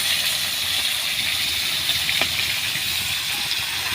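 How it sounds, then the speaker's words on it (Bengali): Koi fish frying in hot oil for a tel koi curry, a steady close sizzle and hiss that holds evenly throughout with no talk over it. "মাছগুলো আমি হালকা করেই ভেজে নেবো"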